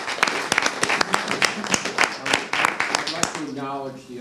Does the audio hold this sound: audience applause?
yes